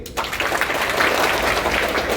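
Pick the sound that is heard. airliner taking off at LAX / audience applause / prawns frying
audience applause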